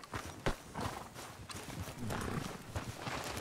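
Horse hooves clop on the ground in Red Dead Redemption 2, a soft, fairly quiet run of uneven hoof strikes with one sharper thud near the start, under someone speaking.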